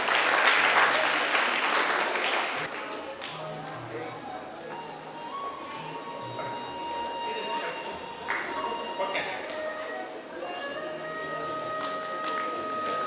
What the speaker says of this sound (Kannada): ಸರ್ವರ ಪರವಾಗಿ ಚಪ್ಪಾಳೆ ಮೂಲಕ